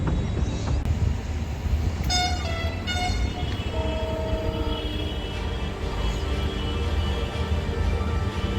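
Ujjaini Express locomotive shunting near Khandgaon, Rishikesh, sounds a series of short horn toots followed by longer sustained horn tones over steady rumbling train and traffic noise.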